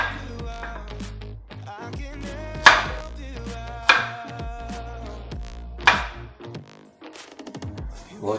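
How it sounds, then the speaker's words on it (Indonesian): Knife slicing carrots diagonally on a cutting board, a few sharp chops spaced a second or two apart, close by under steady background music. "Wortel kita iris-iris ya, iris-iris miring aja."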